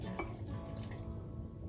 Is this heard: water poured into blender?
yes